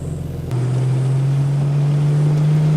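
A turbocharged RB30E-engined Holden VL Commodore pulls away, a steady low engine drone rising slightly in pitch as it drives off, loud and close from about half a second in.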